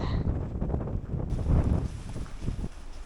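Strong wind buffeting the microphone at a hilltop viewpoint in Argentina, a steady loud roar with gusts that swell and fade over the whole stretch, no voices.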